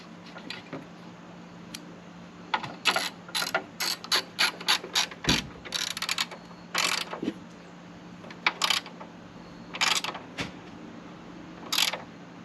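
A hand ratchet tightens a bolt on a Jeep hood strut bracket: quick bursts of sharp metallic clicks in uneven runs separated by short pauses, close and clear over a low steady hum.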